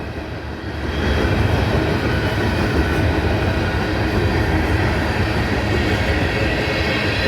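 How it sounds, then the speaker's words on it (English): A southbound freight train out of Greenwood, lightly loaded and bound for Atlanta, rolls past in Abbeville with a steady, loud, continuous rumble and faint wheel clatter that swells after the first second and holds. "It's a southbound train"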